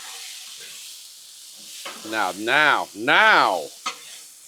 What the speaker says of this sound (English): And now we'll just mix all this together.